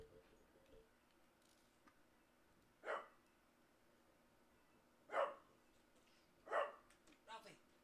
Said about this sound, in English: The small dog barks against the big dog barking.